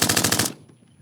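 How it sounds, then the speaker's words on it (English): A loud machine-gun sound effect is played in a podcast studio: a rapid burst of about seven shots that cuts off abruptly into near silence. "I thought that was going to be gunshots."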